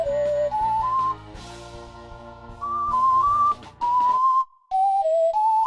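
Bright, melodic whistling by a cartoon character in a Sprunki video game plays a short tune in clean, pitched notes with brief pauses, synthetic and game-like in tone.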